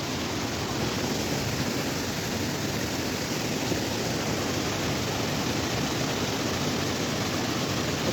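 A waterfall at a hidden forest site in Odisha pours steadily, a loud, unbroken broadband rush of falling and flowing water with no voices, constant throughout.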